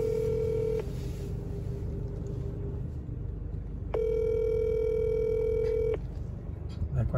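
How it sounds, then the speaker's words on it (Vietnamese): An outgoing phone call rings unanswered during a motorbike delivery in Luong Son, Hoa Binh. Two long, steady ringback tones sound about three seconds apart over a constant low rumble of outdoor background noise. "Nói điện không nghe máy đấy thì đau đầu nhỉ"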